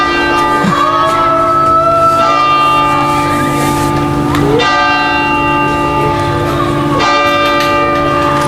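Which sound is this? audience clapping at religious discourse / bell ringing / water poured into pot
bell ringing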